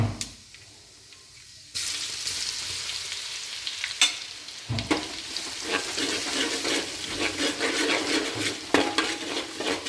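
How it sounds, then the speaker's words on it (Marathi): Ginger garlic paste hits hot oil after spluttering mustard and cumin seeds, starting quiet then breaking into a loud, continuous sizzle with crackles, a few sharp utensil clinks and stirring scrapes for bhaji preparation. "मोहरी छान तडतडल्यानंतर अद्रक आणि लसणाची आपल्याला पेस्ट टाकून घ्यायची आहे।"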